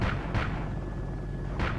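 In the ArmA II video game, a vehicle cannon fires heavy booming rounds, with deep blasts repeating at a steady rhythm over a continuous low rumble of battle.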